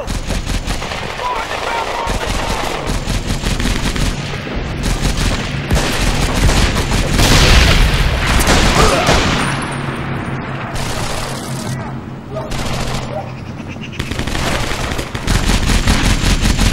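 Sustained MG-42 machine gun fire in the PS2 shooter Medal of Honor Vanguard, long rattling bursts mixed with other gunshots and booms, loud and continuous.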